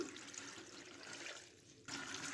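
Water pours into a bowl of cut potato strips, a soft, close splashing trickle that runs briefly and shifts in tone near the end, faint and without talk.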